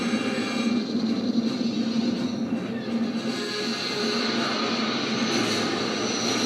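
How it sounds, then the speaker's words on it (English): Star Wars space chase sound effects of a Rebel ship pursued by an Empire ship: a continuous, loud roaring engine rumble and whoosh that holds steady throughout, with no breaks. "space chase scene. And just to let you know, that ship's the Rebels, and the ship behind it, that's the Empire."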